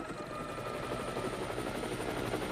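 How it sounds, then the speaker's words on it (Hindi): A helicopter drones steadily with a rhythmic rotor chop, fairly faint and unchanging, as if hovering or passing at a distance. "अरे ये आवाज तो हेलीकॉप्टर की है ना?"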